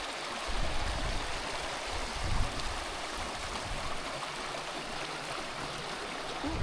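Water in a stream at a campground flows and burbles steadily nearby, a constant rushing wash with no voices.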